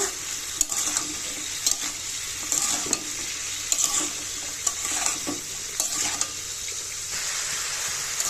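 Papaya sautéing in a pan with salt, turmeric, cumin powder, coriander powder, whole cumin and garlic paste, a steady close sizzle broken by scraping stirs at irregular intervals, with no talking.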